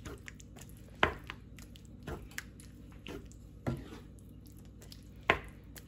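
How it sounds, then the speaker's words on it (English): A casserole mix with ranch style beans being stirred in a pan or bowl: a handful of wet, squishy scrapes and soft knocks of a spoon, spaced about a second apart over a quiet background, close and without talk. "all you gotta do now, just finally give this a quick mix"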